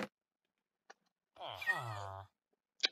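A Minecraft cat gives one short drawn-out meow in the middle of a quiet stretch, flanked by a few faint clicks and taps.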